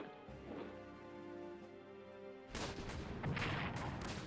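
Artillery fire in the World War I strategy game Strategic Command: World War I: a dull booming blast, then a sharper, louder burst of crashing impacts in the second half.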